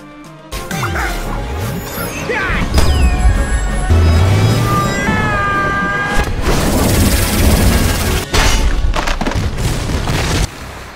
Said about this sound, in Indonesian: Po yang terus membalikan serangan meriam tersebut hingga kapal senjata milik Sen hancur